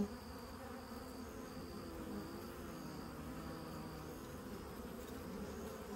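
Bees swarm around a hive being removed, their dense, steady buzzing filling the air close by and continuing unbroken from start to finish with no voices.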